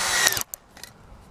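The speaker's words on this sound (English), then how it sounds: "go ahead and grab your drill and drill bit" Power drill with a bit spinning up inside a tube for a homemade BB airgun, a loud whirring burst that cuts off abruptly, followed by faint clicks and rattles.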